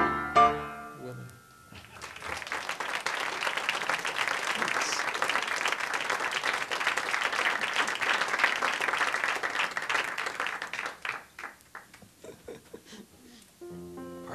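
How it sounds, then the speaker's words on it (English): An audience at a live music show claps steadily for about ten seconds in a sustained burst of applause, loud and dense, tapering off before a voice speaks briefly at the end. "Partnership clapping over here."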